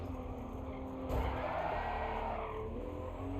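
A car braking and skidding in the racing game Gran Turismo Sport, a steady engine drone with a sharp rise into a sustained tyre-scrub skid that fades after a couple of seconds.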